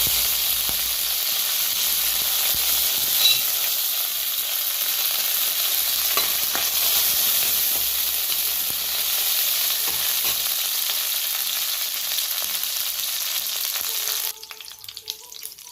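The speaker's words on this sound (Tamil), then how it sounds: "அதுக்கப்புறம் கடுகு நல்லா பொரிஞ்சிச்சு. கருவேப்பிலை போட்டுக்கலாம்." Hot oil hisses and crackles in a continuous dense sizzle as mustard seeds and curry leaves splutter in the pan. The sound is loud and close for about fourteen seconds, then drops away abruptly.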